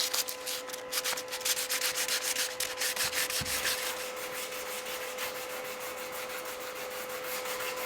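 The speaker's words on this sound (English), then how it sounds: "I saved you the bore of watching me sand this top" Continuous rhythmic sanding on a Vanagon Westfalia hightop to strip paint toward primer and bare metal, a steady close scratchy rubbing with regular back-and-forth strokes and a faint background hum.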